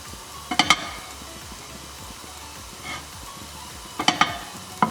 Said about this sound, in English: This will cook very quickly, so keep stirring